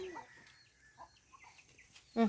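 Chickens cluck softly in a quiet outdoor setting, with a few scattered short clucks and a slightly louder one at the end, faint and sparse with no talk.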